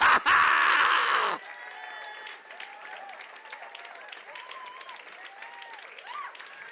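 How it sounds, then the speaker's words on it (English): A congregation bursts into loud clapping for about a second, then it cuts off to a quieter room with scattered murmurs and faint voices. "Somebody clap your hands."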